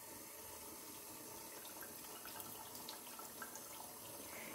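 A stream of water runs steadily and quietly, a continuous even hiss and gurgle with no voices, as in a water jet holding a small ball levitated.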